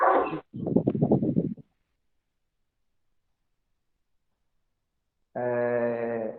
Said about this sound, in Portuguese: Tem um cachorro aí, microfone aberto